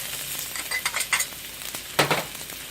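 Garlic drops into a hot pan of Thai basil chicken and gets stirred, bursts of sharp sizzling and frying mixed with scraping stirs, with a louder hiss near the end.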